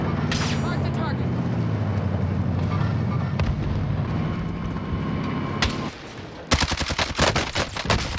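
Rapid gunfire and explosions from the video game Call of Duty Warzone (Cold War era), dense and loud throughout, ending in a burst of sharp cracking shots, with voices talking over the battle.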